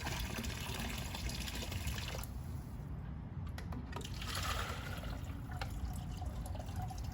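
Water from a saltwater pool filter being dumped out of a container, a steady close gushing and splashing pour with trickles and drips, lasting throughout.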